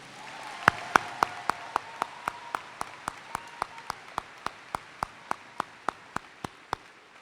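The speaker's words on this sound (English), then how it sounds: "Please give these dedicated individuals a round of applause." Audience at a Port Huron Northern high school graduation ceremony applauds the school staff, a steady wash of clapping with one sharp, evenly spaced clap cutting through the crowd at a brisk, regular pace.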